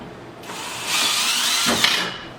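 A power drill drives screws during assembly of a Mainstays Alexandra three-piece patio set, one close whirring burst that ramps up, holds briefly, and winds down with a slight bump as the screw seats.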